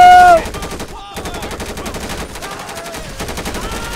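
Rapid automatic gunfire from a GTA 5 bank heist shootout at Pacific Bank, a dense, loud rattling burst of shots continuing steadily throughout with a brief lull near the one-second mark.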